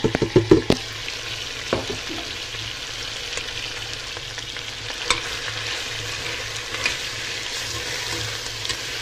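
Meat and herbs stir-fried in a pan for ghormeh sabzi, with a busy cluster of scraping stirs at the start and then a continuous, fairly loud sizzle dotted with occasional clicks.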